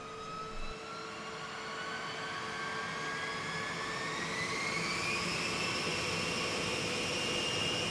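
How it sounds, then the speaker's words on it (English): Jet engines of a B-52 bomber spool up at startup, a steady broadband roar with high turbine whines rising in pitch, growing slightly louder and continuous throughout. "the pilots fire up each of the B-52's 8 engines"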